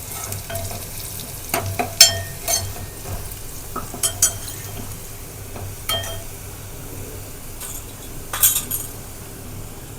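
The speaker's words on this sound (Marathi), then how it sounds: "बोंबील फ्राय करणार आहे ना." Bombil (Bombay duck) fish frying in a home kitchen, a steady low sizzle with stirring, scattered sharp clinks of utensils against pans, no talking.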